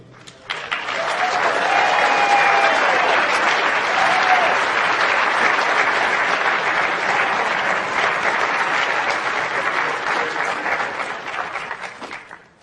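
Sustained audience applause at an occupational and corporate health conference opening session, welcoming a speaker to the podium: dense, steady clapping that swells quickly, holds for about twelve seconds and fades at the end.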